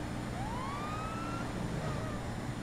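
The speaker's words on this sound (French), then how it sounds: "comme il faut que j'écoute les gens quand vous mettez la sirène" A siren sound effect plays on a French radio show, a rising and falling electronic wail sweeping steadily over a constant background hum with no talk.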